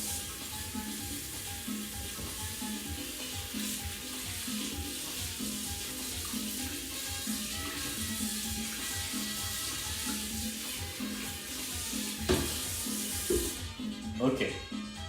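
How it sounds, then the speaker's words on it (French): Water rinsing a hot frying pan while cooking butter chicken, a steady sizzle and hiss with running tap water and scraping stirs, ending in louder splashes and clatter near the close. "je vais juste rincer ma poêle vite fait"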